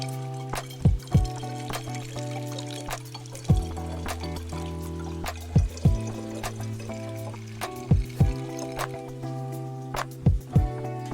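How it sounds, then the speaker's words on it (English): Water slowly poured into alcohol and lemon peel for homemade limoncello, a steady liquid trickle with recurring glugs and splashes, close and moderately quiet, with no voices. "And now we'll slowly add in our water."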